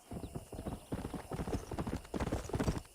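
Horse hooves clip-clop steadily on the ground in the Red Dead Redemption video game, a brisk, close, even rhythm of hoofbeats running throughout with no talk over them.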